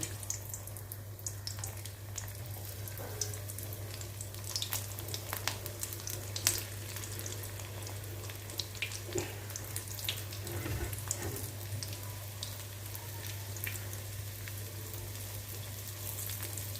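Veg lollipop balls deep frying in hot oil make a continuous bubbling sizzle with scattered crackles, steady and moderately quiet over a low electrical hum.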